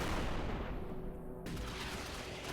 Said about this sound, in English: Because this explosion is going to be so big, it's going to kill everything.